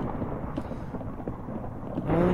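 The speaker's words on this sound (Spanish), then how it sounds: "¿Cuánto queda la tormenta?" A Minecraft thunderstorm rolls on as a low, rumbling roar with steady rain-like hiss, swelling louder near the end.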